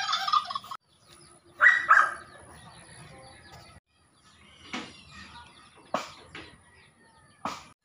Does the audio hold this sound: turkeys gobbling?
yes